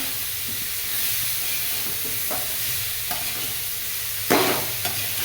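Vegetables for an instant pickle stirred and fried in a pan over a medium-low flame, a soft continuous sizzle broken by several scraping stir strokes, one louder scrape near the end.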